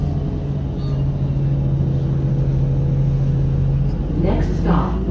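Steady engine rumble and road noise from inside a TTC Kennedy-Scarborough Centre Express bus in motion, with a continuous low drone and a brief rise near the end, voices talking over it.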